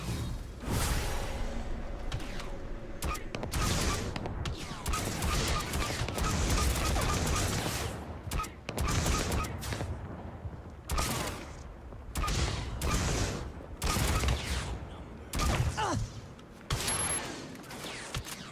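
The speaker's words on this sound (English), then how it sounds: "Are you shooting at us? You are shooting at us." Gunfire aimed at the player's ship in a Star Wars space combat game, a long run of sharp blasts and crashes in irregular bursts with whooshing passes, fairly loud throughout.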